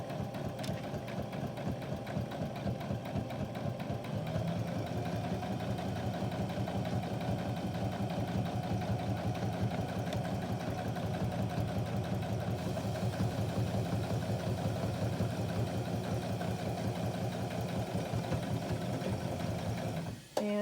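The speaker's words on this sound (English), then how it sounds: "I'm just going to backstitch a little bit at the beginning." A sewing machine runs steadily as it backstitches and stitches fabric for a basic face mask, a continuous close mechanical whir with a fast, even needle rhythm holding for about twenty seconds before stopping abruptly.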